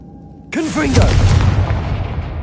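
A Confringo fire spell detonates in Hogwarts Legacy with a sudden loud booming blast that rolls on and rumbles away, while a voice speaks over the start of the explosion.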